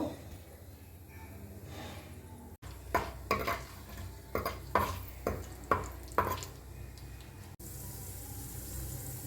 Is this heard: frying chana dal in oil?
yes